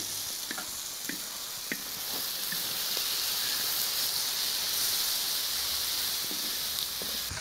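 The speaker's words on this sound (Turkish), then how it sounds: "Şimdi karıştırıyoruz domatesimizle." Tomatoes stirred into a hot stone pan with Niger spice: a loud, steady sizzle and hiss throughout, broken by scattered spatula taps and scrapes, close by.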